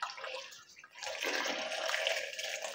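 Milk poured into a papaya milkshake, a close, continuous liquid splashing and gurgling that dips briefly before swelling again for the rest of the moment, with no talk.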